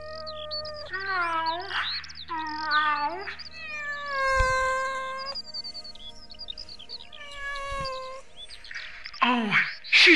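A cat meows repeatedly in long, wavering, strained calls that rise and fall in pitch, loud and close, with a couple of brief yowling bursts between them and a steady low hum underneath.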